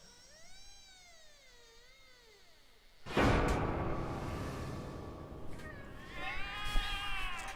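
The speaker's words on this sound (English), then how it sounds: "The cats are alarming." Several cats meow in The Cat Lady video game, long wavering cries that rise and fall, then a sudden loud rushing burst cuts in around the middle, with further faint high yowls near the end.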